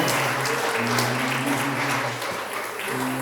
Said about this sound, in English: Let's give a round of applause to Jon and Lily, and Sarah and Michael.